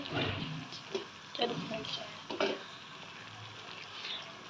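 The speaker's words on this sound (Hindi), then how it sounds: "इसको भी घी में ऐड करके इसको थोड़ा सा फ्राई करेंगे" Gram flour (besan) frying in ghee for besan halwa, a quiet soft sizzle with a few light scrapes and taps of stirring, fading toward the end.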